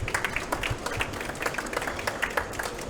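Scattered audience clapping at a hospital panel discussion during a health trade fair, a moderately loud patter of hands sounding from a mid-sized room, fairly even throughout.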